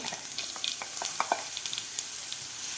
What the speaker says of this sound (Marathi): आता हे वाटणसुद्धा आपल्याला 1 ते 2 मिनिट व्यवस्थित परतून घ्यायचं आहे.